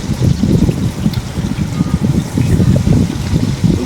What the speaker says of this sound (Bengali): তো পটলটা দিয়ে দিলাম তেলে।